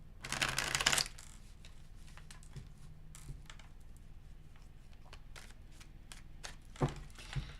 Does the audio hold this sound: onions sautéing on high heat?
no